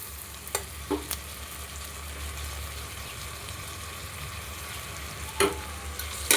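Ginger garlic paste frying in a pan for goat intestine curry, a soft steady sizzle with a few sharp stirring clicks and scrapes, faint and close, with no talking.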